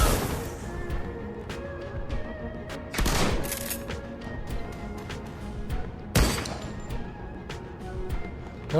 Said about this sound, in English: That is a big sniper.